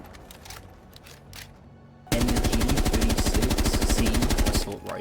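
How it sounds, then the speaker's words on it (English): R4C assault rifle firing in Rainbow Six Siege, a loud sustained burst of rapid automatic gunfire lasting over two seconds, following a few quieter clicks and handling sounds. "has access to the R4C assault rifle"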